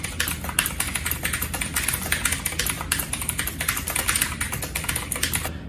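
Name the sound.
typing on mechanical keyboard with blue switches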